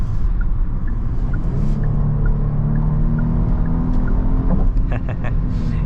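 A Genesis GV80 SUV with a 3.5 engine accelerates in sport mode, a steady loud engine drone rising in pitch under road and cabin noise.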